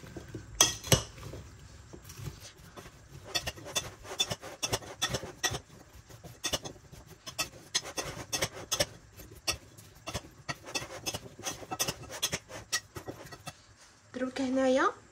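Vegetables being mixed with paprika, heard as steady clinking and scraping of a utensil against a dish in rapid irregular strokes, close up, with a voice talking at the end.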